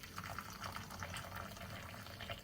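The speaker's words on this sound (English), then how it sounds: "So first some hot water." Hot water being poured into a cup, a quiet, steady trickling and splashing with faint bubbling throughout.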